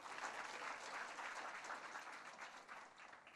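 A church congregation at a Passover celebration claps for the decoration team, a steady, moderately faint patter of many hands that eases off toward the end.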